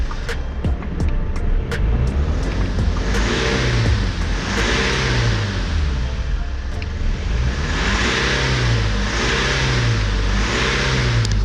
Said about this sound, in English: You can hear the car still missing. Still hunting on the revs sometimes.